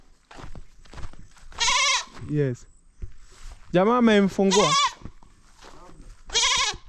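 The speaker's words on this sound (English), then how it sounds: "this goat is cry too much" A goat bleats loudly and repeatedly, a handful of wavering cries close by with pauses between them, while people speak briefly in the background.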